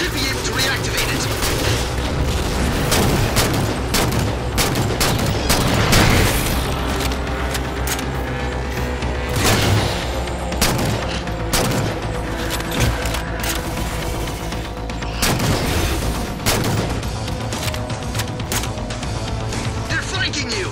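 Defense turrets in Halo Spartan Ops fire at enemies, sending out repeated loud booming blasts and bursts of gunfire in uneven volleys over a steady battle din, with no voices heard.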